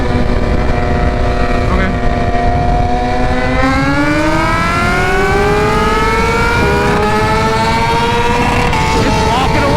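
A BMW HP4 Race motorcycle accelerates hard on a warm day, its engine note loud and close, climbing steadily in pitch through a long pull with a brief shift, as a voice speaks once over it.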